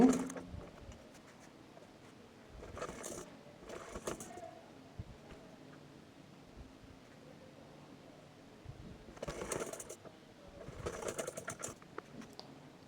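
A sewing machine stitches a pocket onto a maxi dress in a few short, quiet bursts of running separated by pauses and light handling noises.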